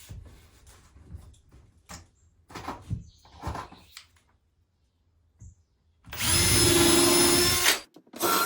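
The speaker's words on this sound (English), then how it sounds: "pre-drill our holes with the same screws, screw it in." A power drill drives screws into a wooden sauna bench, a loud sustained whir of about two seconds after quieter knocks and handling of the boards.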